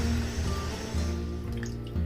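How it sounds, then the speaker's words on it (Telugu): Water pours steadily into a pot of spicy chicken curry, a brief, close, continuous splashing rush lasting about two seconds. "ఇప్పుడు దీనిలోకి వాటర్ యాడ్ చేసుకుందామండి"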